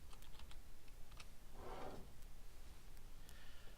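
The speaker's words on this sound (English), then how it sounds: "Let's type in the credentials here." Keys clatter on a computer keyboard as login credentials are typed, a faint run of quick soft clicks against a low room hum.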